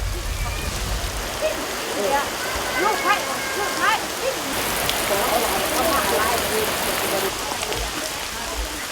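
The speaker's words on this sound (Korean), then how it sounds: "하늘에서 갑자기 굵은 빗방울이 떨어지기 시작한다" Heavy raindrops pattering steadily on a coffee farm in Laos, a dense continuous rain hiss with scattered louder drops and faint voices in the background.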